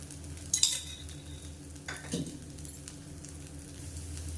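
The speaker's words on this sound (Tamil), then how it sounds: "தோசை இதுக்கு மேலாப்பில் எண்ணெய் விட்டுக்கலாம்" Sorghum dosa cooks on a pan with oil drizzled over it, a soft low sizzle running quietly underneath, broken by a sharp metallic clink early on and a brief scrape a moment later, with no talking.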